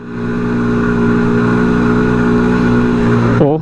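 A heavily loaded 50cc motorcycle straining up a slope, its small engine droning steadily at high revs, loud and close, before easing off at the end.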